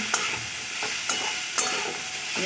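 Ridge gourd and yardlong beans fry in a pan with a continuous soft sizzle, broken by a few distinct stirring scrapes and clinks at irregular intervals, close and unaccompanied by speech.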